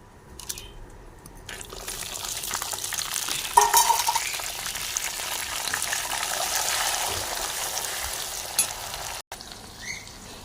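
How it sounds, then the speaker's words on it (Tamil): Curry leaves and fennel seeds hit hot oil as tempering for a crab gravy, bursting into a bright, crackling sizzle after a quiet start that holds steady close by for several seconds. "எண்ணெய் விட்டாச்சு தாளிப்புக்கு கருவேப்பிலையும் சோம்பும் போடுவோம்"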